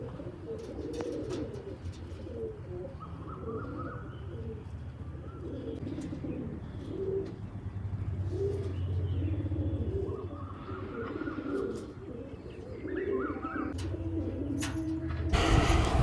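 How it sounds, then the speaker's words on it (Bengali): Rampuri pigeons in a loft give repeated soft, low coos in a slow, rolling rhythm, several birds overlapping at moderate distance against quiet background noise. "অনেকে বলছে রামপুরি পায়রা"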